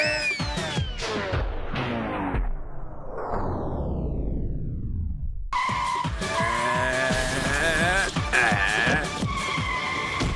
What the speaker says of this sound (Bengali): গাড়ির আওয়াজ তো পেয়েছিলাম।